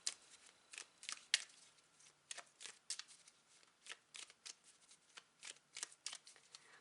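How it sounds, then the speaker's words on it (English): Crystal cards for a tarot reading are shuffled and handled in quick, soft riffling bursts, faint and close, repeated irregularly with no voices. "So now I'm going to draw 3 crystal cards"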